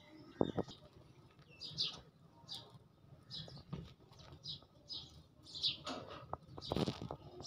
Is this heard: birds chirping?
yes